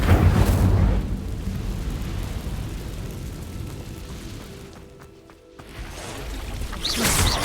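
An Incendio fire spell is cast in Hogwarts Legacy, erupting in a loud whooshing burst of flame that roars, fades to a rumble, drops briefly, then swells again at the end.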